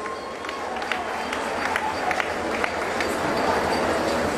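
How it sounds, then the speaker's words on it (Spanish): Crowd applause at a live concert by Súper Lamas celebrating a 30th anniversary in Muna, Yucatán: steady dense clapping filling the space, with scattered sharper claps and a low rumble throughout. "Un aplauso para Carlitos, por favor, si son tan amables."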